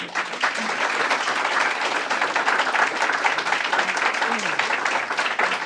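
An audience at the Governor's opioid settlement announcement gives sustained applause for the Attorney General, dense, even clapping that holds steady throughout with voices faintly mixed in.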